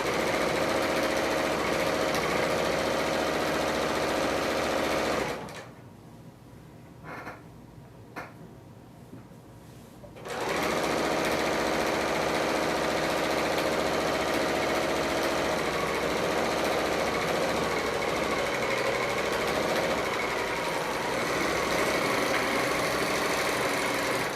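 A Bernina L890 serger stitches pillowcase seams in a steady, loud mechanical whir, running continuously apart from a brief pause of near-quiet with a couple of small bumps before the motor starts up again.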